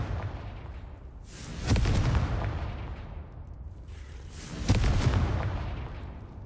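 Two heavy blasts from the Confringo blasting spell in Hogwarts Legacy, each a sharp booming burst that rumbles and decays over a couple of seconds, spaced about three seconds apart with no talk.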